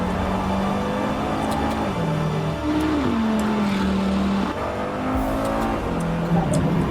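New KTM supercar engine heard from inside the cabin, loud and continuous with rising and falling rev pitch as it accelerates and shifts through gears, no talk over it.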